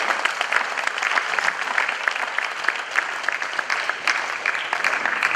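An audience at the Asantehene Otumfuo Osei Tutu II art awards applauds honoured artists with lively, crisp clapping that stays busy and fairly loud across the whole stretch.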